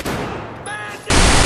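Gunfire in the Battlefield video game: dense, loud bursts of shots with a brief lull in the middle before another heavy, sustained volley.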